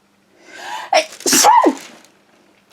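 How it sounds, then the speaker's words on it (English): A single loud sneeze with a sharp intake of breath before it, close to the mic, followed by quiet. "sorry I'm going to sneeze in a minute"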